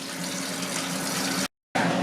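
Running tap water splashing steadily as hands are washed with soap during cooking, a close, continuous gush that cuts out briefly and then resumes.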